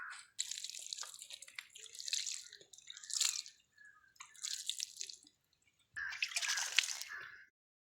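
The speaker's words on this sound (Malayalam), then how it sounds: "അപ്പോൾ നമുക്ക് നനച്ച് കൊടുക്കാം." Water splashes into freshly planted potted plants in about five separate bursts of pouring and trickling, each ending in brief drips, close by with quiet gaps between.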